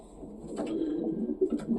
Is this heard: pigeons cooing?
yes